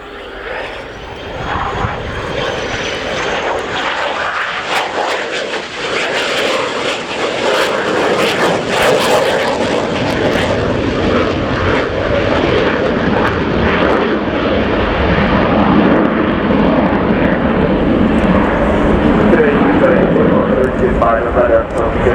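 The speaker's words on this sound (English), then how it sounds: "we'll see the aircraft performing a climbing roll in this landing configuration, transitioning into a 270-degree turn" A Czech Air Force Saab Gripen fighter jet roars continuously and loudly through a climbing roll in landing configuration at the RIAT Fairford air show, with a commentator talking over the engine noise.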